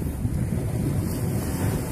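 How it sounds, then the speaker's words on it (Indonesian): Steady wind buffeting the microphone at the seashore at night during fishing, a constant low roar with surf faintly mixed in and no voices. "cuman angin ada lumayan, lumayan tidak terlalu kuat"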